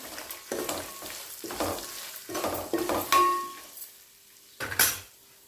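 Grated raw coconut and asafoetida powder go into a hot oil tempering for mango-coconut pulihora, bringing a busy sizzle broken by repeated metal spoon scrapes and clanks against the pan, close and fairly loud, with no talking.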